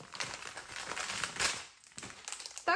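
Plastic parcel packaging from an AliExpress order crinkles and crackles close up while being unpacked, in irregular bursts of rustling with short pauses, ending with a sharper crumple.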